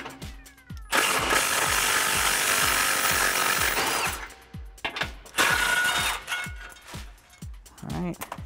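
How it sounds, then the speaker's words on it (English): A power tool spins out 15 mm bolts from the factory skid plate under a 2018-2020 Ford F150, loud close whirring bursts with rapid clicking and metallic rattles between them. "Now there's two 15 millimeter bolts here. We're just gonna take those off and get rid of this factory plate."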